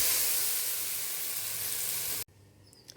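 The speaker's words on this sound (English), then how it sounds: "Add the blended paste to it." Blended paste hits hot oil with tempered cumin seeds and sizzles loudly in a steady broadband hiss, then cuts off abruptly near the end, leaving quieter faint sputtering.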